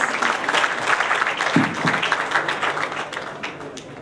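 An audience at a social foundation awards night applauds the guest of honor, the Maharaja of Udaipur, with steady dense clapping throughout, filling the room at moderate loudness with a couple of brief low thumps partway through.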